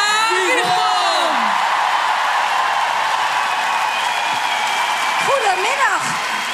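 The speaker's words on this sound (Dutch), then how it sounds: "Mag ik een heel hard applaus voor Sarina Wierman." A dense, loud crowd cheers, whoops and claps continuously at a public homecoming celebration for the Dutch women's national football team, with a host's amplified voice briefly heard over the roar.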